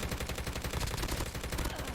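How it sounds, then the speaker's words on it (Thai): Rapid automatic gunfire from Call of Duty Mobile, the mobile shooter in a parachute battle-royale mode, rattles continuously and densely throughout, with steady bursts and no pauses. "มีเสียงปืน"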